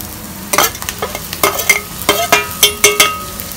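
A ground methi (fenugreek) mixture sautéed in hot oil for methi rassabhaji, with a spoon repeatedly scraping and stirring the pan in uneven strokes over a soft sizzle, close and clear with no talking.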